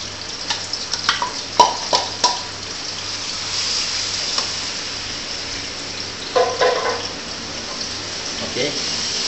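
Onion sautéing slowly in a little oil in a pan for Nyonya cooking gives a steady, close sizzling hiss, broken by occasional clinks and scrapes of a utensil.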